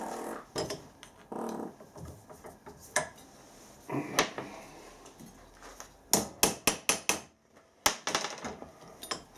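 A hammer strikes a metal end to bend it over, sharp metallic taps coming in irregular clusters, with a quick run of closely spaced blows near the end.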